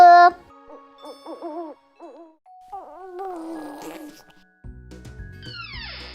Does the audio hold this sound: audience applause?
no